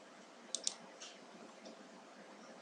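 Two quick, faint computer mouse clicks while navigating the Lichess chess website, crisp and close in a quiet room, followed by a couple of softer ticks.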